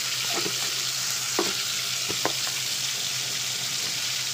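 Garlic and ginger paste with spices frying in a pan, a steady close sizzle with a few soft stirring clicks, no talking.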